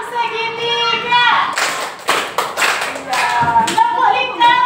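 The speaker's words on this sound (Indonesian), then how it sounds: "Tepuk lingkaran untuk Rizky." Fourth-grade elementary schoolchildren clapping together in a classroom, a brief burst of rhythmic claps and thumps near the middle, with children's chanting voices heard before and after.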